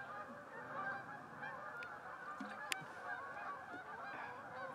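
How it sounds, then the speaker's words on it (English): A flock of geese honks continuously in a wooded outdoor setting, making a dense, steady chorus of overlapping calls at moderate distance with no one speaking. "My bad, it was just geese."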